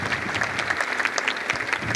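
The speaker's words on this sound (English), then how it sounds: "Please have a huge round of applause for all of them." Enthusiastic applause from a large crowd at a school concert, dense overlapping clapping that stays loud and steady throughout.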